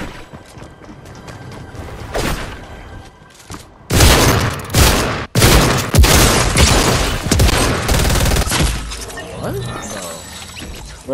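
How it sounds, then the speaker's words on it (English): SMG gunfire in Fortnite comes in loud rapid bursts with booms and impact crashes, starting after a quieter stretch and holding heavy through the middle, with the player talking over parts of it. "Ran out of bullets and that weak ass charge SMG killed me."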